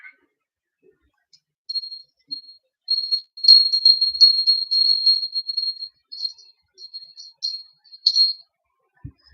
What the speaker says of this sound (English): Let's ring the bell and clear out the energy.